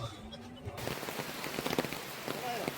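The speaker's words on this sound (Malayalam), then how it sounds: "വെടിക്കെട്ട് മഴ, ഒരു രക്ഷയില്ലാത്ത മഴ, എണ്ണ കാണാൻ പറ്റാത്ത മഴ" Heavy rain pours steadily outdoors beside a garden pond, a dense hiss of drops hitting surfaces that continues throughout, with a brief muffled stretch at the start before the full downpour sound opens up.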